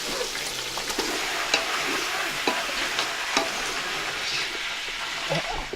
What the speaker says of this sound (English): wet fry is usually kind of more like sauteed with onions and tomatoes and some spices